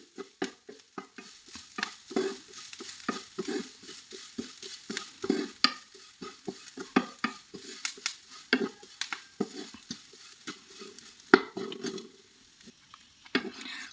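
Repeated scraping and scratching strokes of a spoon stirring grated coconut in a hot pan for gooseberry chutney, close and irregular, with a faint background hiss.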